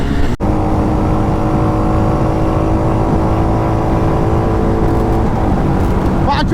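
Jawa Bobber 42 and Royal Enfield Hunter 350 motorcycles in a top-end drag race, with a loud steady engine drone held at high revs throughout, a brief dropout near the start and a slight shift toward the end.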